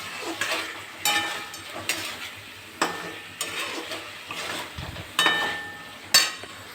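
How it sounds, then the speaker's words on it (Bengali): Mutton sautéing in a wok-style pan with red chilli, a soft continuous sizzle broken by regular scraping and stirring strokes of a spatula against the metal, roughly one each second, close up. "লাল লঙ্কা ধরে দিয়ে দিচ্ছি আর মাংসটা ভালোভাবে কষতে থাকে"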